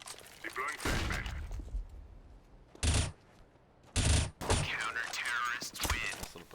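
Gunfire bursts from a Counter-Strike round, with two loud, short broadband volleys near 3 and 4 seconds standing out against steady game noise and scattered voices.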